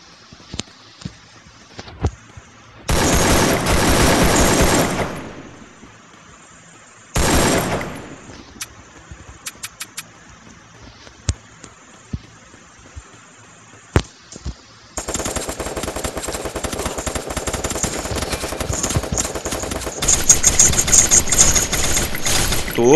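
Free Fire gunfire: two long bursts of automatic fire, scattered single shots, then a sustained rattling barrage through the second half, loud and close.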